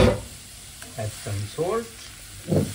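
Shimeji mushrooms sizzle and crackle steadily in hot oil in a home kitchen pan, a continuous frying hiss under short bursts of a person talking close by.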